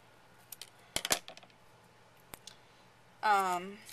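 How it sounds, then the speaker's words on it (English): Scissors cut a thin magnet sheet into a circle with a handful of quiet, sharp snips spaced over a few seconds, after which a voice briefly speaks. "Just cut a circle there."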